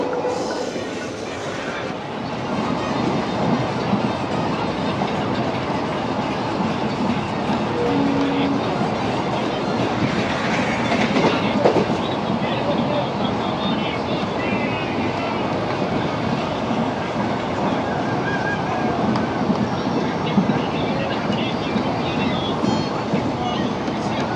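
The 16850 Rameshwaram–Tiruchchirappalli Express rumbles loudly and steadily across the Pamban Bridge, with rail clatter running through the whole stretch. Voices from the crowded carriage sound faintly beneath the noise.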